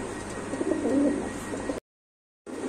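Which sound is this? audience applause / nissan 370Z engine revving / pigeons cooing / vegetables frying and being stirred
pigeons cooing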